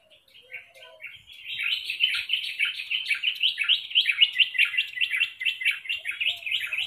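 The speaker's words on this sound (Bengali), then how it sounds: "কি সুন্দর পাখিরা সব আওয়াজ করছে" Birds chirp and twitter in a rapid, continuous chatter that builds after a quiet start, with no other sounds.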